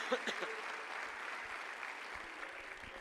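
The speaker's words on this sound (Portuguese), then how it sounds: "Vamos aplaudir ao Senhor, queridos" Church congregation applauding during a Portuguese-language service, a soft, steady patter of many hands heard from a distance, fairly faint, with no one speaking over it.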